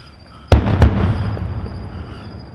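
Fireworks bursting outdoors during a New Year celebration: two loud sharp booms in quick succession, then a long rumbling roll of distant crackle and echo that slowly fades.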